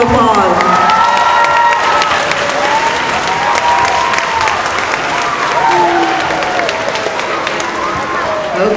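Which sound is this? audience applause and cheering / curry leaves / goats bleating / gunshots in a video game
audience applause and cheering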